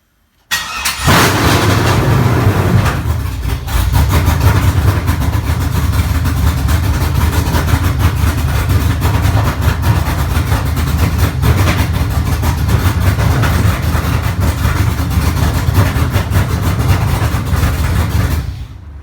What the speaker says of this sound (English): We're gonna see if it starts.